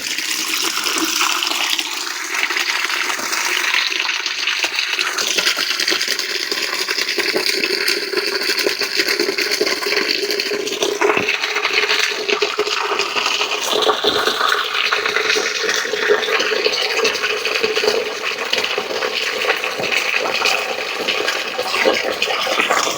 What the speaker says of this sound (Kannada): ಆ ಬಿರ್ಕಿಗಿಂತ ಸ್ವಲ್ಪ ಕೆಳಗಡೆ ತನಕ ನೀರನ್ನು ತುಂಬಿಸೋಣ